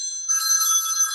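A telephone bell rings steadily, a bright, loud electronic trill that starts abruptly and continues alone.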